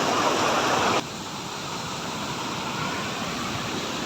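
Broad, steady roar of rushing floodwater after heavy rain, loud and continuous, dropping slightly in level after a second with no pause and no speech over it.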